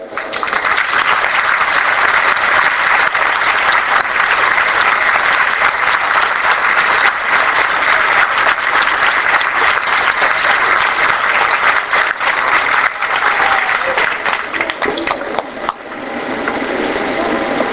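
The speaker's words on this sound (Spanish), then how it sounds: "Me dan ganas de pedir un aplauso para él." Audience applause at a school's centenary celebration, honoring a former teacher, Martínez Matonte: dense, steady clapping from a large crowd that carries on loudly for well over fifteen seconds before easing off slightly near the end.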